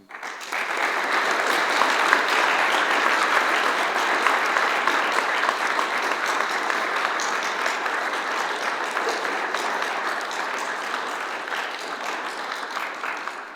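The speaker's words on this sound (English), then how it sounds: "And now please let this Eagle Scout get a big round of applause." Audience applause fills the room for an Eagle Scout at a Scouts of America court of honor, continuous even clapping that stays strong for over thirteen seconds with no talking.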